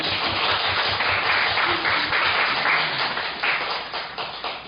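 Church congregation applauding to welcome a young boy, sustained dense clapping throughout that fades slightly toward the end, heard close and fairly loud.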